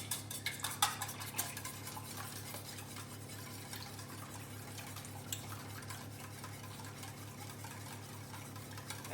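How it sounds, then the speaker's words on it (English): Eggs are whisked in a bowl, producing a faint, steady rhythmic clatter and swishing close by under a low background hum. "So back to our eggs, we want to whisk that up."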